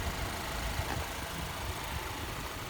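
Under an open hood, the 2.4 liter engine of a 2015 Chevy Impala idles steadily, a low, even hum with broadband noise and no talking.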